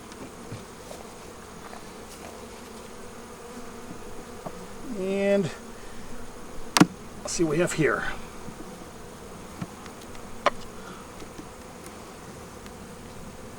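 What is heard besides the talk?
honey bees buzzing on brood frame during hive install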